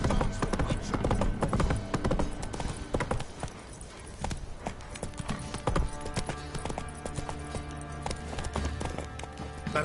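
Hooves of Roach, a horse in The Witcher video game, clip-clop steadily through a busy, music-laden game scene, with a voice briefly speaking over the continuous mix.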